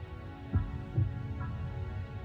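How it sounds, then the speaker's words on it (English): A heartbeat sound effect in a song plays as two soft, low thumps over a quiet humming background. "The heartbeat carrying over is a nice touch."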